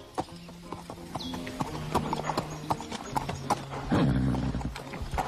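Horse hooves clip-clop in an uneven rhythm on a hard surface at a farm, with a horse's low whinny rising partway through, nearby and moderately loud.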